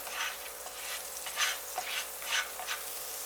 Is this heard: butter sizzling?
yes